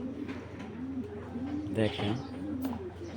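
Racing pigeons coo softly and repeatedly nearby, the throaty calls rising briefly louder midway while a person talks over them.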